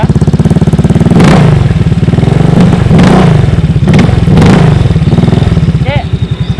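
Modified Honda Vario 150 scooter engine running loud and close, idling with repeated sharp revs that swell and fall across the clip, alone without talk.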